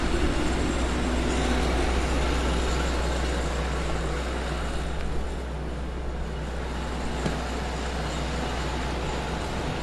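A Caterpillar D7E diesel-electric bulldozer runs close by with a steady, heavy low-pitched drone that holds throughout, easing slightly partway through but never stopping.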